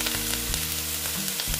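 Ingredients for a pomfret fish curry, including ginger and garlic paste, sizzling steadily in a hot pan with oil, a dense continuous frying hiss heard close without talk.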